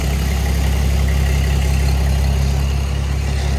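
Loud, close engine idle just after a cold start at -3° on a Christmas morning, a rough, steady low-pitched drone that runs continuously without pauses or revving.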